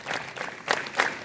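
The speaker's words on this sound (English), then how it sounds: "Clap together." Students at a school morning assembly clap together in a few loose bursts, with a couple of sharper peaks near the end, close and lively over a short span.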